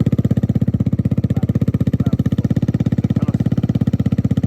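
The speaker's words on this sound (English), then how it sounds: "I put the M4 exhaust on there so you can hear it" A small motorcycle fitted with an aftermarket M4 exhaust runs with a steady, rapid, throbbing pulse that stays loud and close throughout, with no change in pitch or pace.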